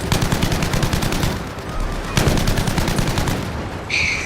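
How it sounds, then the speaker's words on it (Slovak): Gunfire in the video game Battlefield V crackles in rapid automatic bursts, rhythmic and dense, broken by a brief pause and a heavier shot, then resuming before a short electronic tone closes it out. "To je taká hra, kde sa strieľajú."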